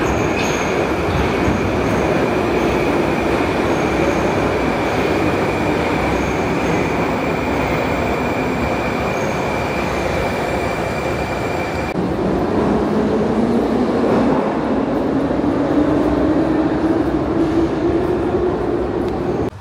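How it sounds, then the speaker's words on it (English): A Tashkent metro train rumbles in and runs steadily, loud and close, with a rising whine and squeal partway through as it picks up speed. "And here comes the train."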